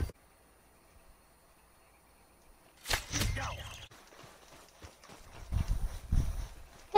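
After a quiet stretch, horse hooves clop in Red Dead Redemption, starting suddenly and continuing unevenly at moderate volume, with faint sounds in the background.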